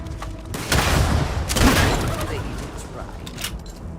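Gunfire in the space game Starfield, with a couple of bursts of loud, close shots across the middle of the clip under ongoing game noise and faint talk.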